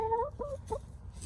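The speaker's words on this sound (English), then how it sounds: "It's just fun to watch your chickens." Chickens cluck in a backyard chicken run, a few short, pitched calls in quick succession, close and clear over a low background murmur.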